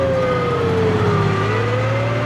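A military ambulance siren wails through a snowbound city, a loud continuous tone that drifts slowly down and then climbs again over a low engine drone, with no voices.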